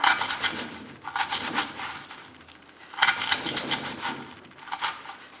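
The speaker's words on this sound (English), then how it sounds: "You can hear the table shaking." Rhythmic scraping and rattling bursts of a wooden table juddering as a VG-10 steel Spyderco Delica knife cuts rope, in two loud clusters separated by a quieter stretch.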